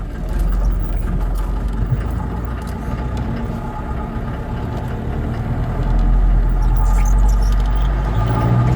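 A factory 1965 1¾-ton diesel truck with a hand crank and four-on-the-tree shifter rumbles as it reverses, a deep, steady engine drone close by that swells louder near the end.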